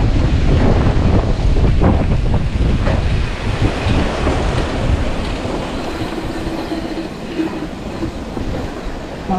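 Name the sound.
strong wind blowing at Mount Parawagan view deck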